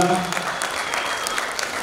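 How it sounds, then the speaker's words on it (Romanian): Applause from the audience at a Eurodance festival, a dense, loud, continuous clapping crowd heard under a presenter's voice. "Haideți să aplaudăm pe Ramona"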